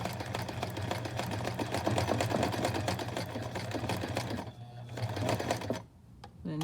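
A sewing machine runs fast, stitching an invisible zipper into fabric with a steady close mechanical chatter, then slows and stops near the end.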